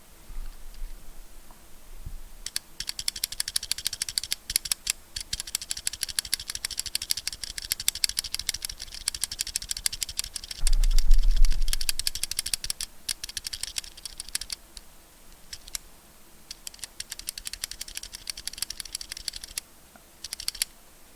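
Rapid, dense clacking of a stock mechanical keyboard fitted with KLC Playground EC switch parts, typed on continuously and close up with brief pauses and a few heavier thocks midway, no voices.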